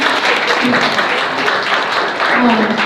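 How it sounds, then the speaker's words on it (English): An audience applauds loudly with dense, sustained clapping throughout, a voice briefly audible over the crowd. "A huge round of applause,"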